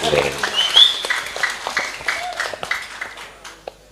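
An audience at an Islamic talk session with a religious teacher claps briefly, scattered applause rising then thinning out into a few separate claps, with some voices mixed in.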